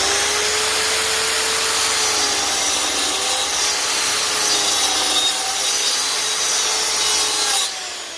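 Power saw cutting oak coaster blanks from a stencil, a loud, steady whining drone with a shifting pitch that runs continuously before cutting off abruptly near the end.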